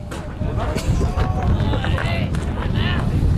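Wind buffets the microphone in steady rumbling gusts at a college baseball game between Milligan University and St. Andrews University, loud and close, with faint sounds behind it.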